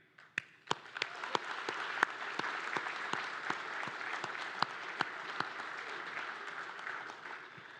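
Audience applause at an international World War II conference honoring active-duty military, veterans and their families, a steady wash of many hands clapping with a few sharper claps standing out, sustained for several seconds.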